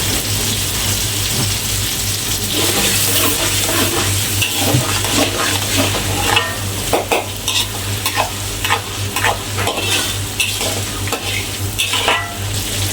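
Minced garlic and ginger go into hot oil in a pan and sizzle loudly and steadily throughout, with stirring scrapes and light clatter becoming more frequent toward the end.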